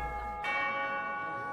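A single bell strike rings out in Fire Emblem: Three Houses, a clear, bright chime with a long sustained tone that slowly fades.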